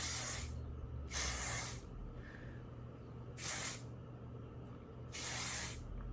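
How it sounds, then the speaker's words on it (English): Hairspray sprayed onto curled, loose waves in four separate bursts of hissing aerosol, each about half a second long, close and fairly loud, with quiet pauses between them and no talking. "So I usually put a lot of hairspray."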